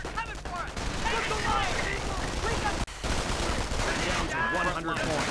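MP40 submachine gun bursts in a World War II strategy video game, rapid continuous crackling gunfire mixed with battle noise, with a brief gap near the middle and no talk.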